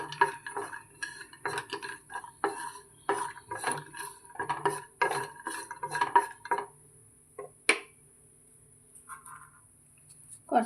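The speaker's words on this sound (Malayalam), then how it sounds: "അടുത്തതായി നമുക്ക് നെയ്യിൽ കുറച്ച് കാഷ്നട്ട് വറുത്തെടുക്കാം." Cashew nuts stirred as they roast in ghee in a pan while carrot halwa is being made. A spoon scrapes and clinks against the metal in irregular bursts, and a few sharp taps come before a quieter stretch near the end.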